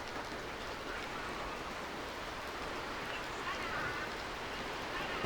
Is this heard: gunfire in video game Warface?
no